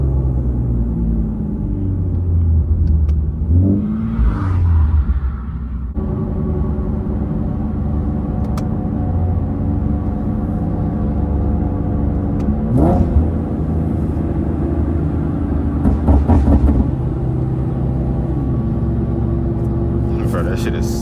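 Loud exhaust drone from an Infiniti G37 and a Nissan 370Z driven on the road, heard from inside as a steady deep rumble with rising revs and occasional bursts, while people talk over it.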